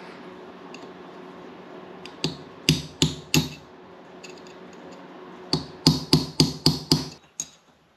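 Hammer tapping bent bolt locking tabs flat on a Yamaha Moto 4 ATV, sharp metallic strikes up close, first a few spaced blows, then a quick run of five or six rapid taps.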